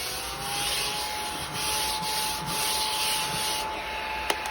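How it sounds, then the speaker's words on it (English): A small tabletop crumb vacuum cleans a mat with a continuous whirring hiss and a faint steady motor whine, the suction pitch dipping briefly at times. A sharp click comes near the end. "There are probably a ton of different tabletop crumb vacuums."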